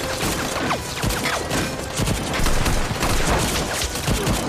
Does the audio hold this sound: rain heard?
no